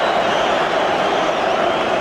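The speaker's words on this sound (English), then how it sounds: "Cheers from the home supporters." Home supporters cheering in a full football stadium during the Derby versus Arsenal match, a broad steady roar of crowd noise that is loud and continuous with no break.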